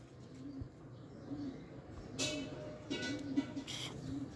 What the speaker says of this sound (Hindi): उस्ताद चौधरी सखी भट्टी साह वाला सलारा कबूतर है